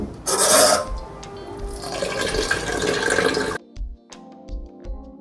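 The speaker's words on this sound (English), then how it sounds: "pour it into the same pot, add some cold water." Cold water pours into a cooking pot holding rinsed, boiled vegetables for banga soup, a loud rushing splash that settles into a softer running fill before cutting off, with a few light clunks afterward.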